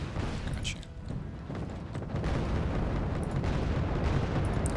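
Missile launches and distant booming impacts from the real-time strategy game Wargame: Red Dragon, set in a Korean war scenario, rumbling continuously in a dense, loud battle mix with talk over it.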